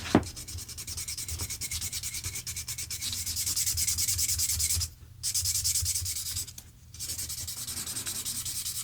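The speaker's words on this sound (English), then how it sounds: "After some sanding, I ended up having to go down to the 1000 grit, then the 1500 and 2000." Steady scratchy wet sanding of a vintage Sheaffer PFM fountain pen with fine sandpaper, continuous back-and-forth strokes close up, pausing briefly twice.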